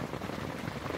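Steady rain pattering on a surface outdoors, a dense, even hiss that is close and fairly loud throughout, with no voices.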